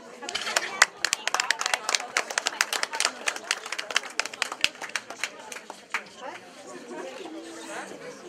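Applause for prize winners at a library teddy bear exhibition event, dense rapid clapping from a crowd with chatter mixed in, fading to lighter scattered claps and murmuring voices toward the end.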